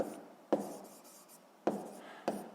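Pen writing a calculation result in a math lesson, three tapping strokes each followed by a soft scratch, close and quiet, with no voices.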